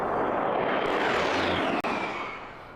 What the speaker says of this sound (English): This fighter jet has been a mainstay in Arizona for 40 years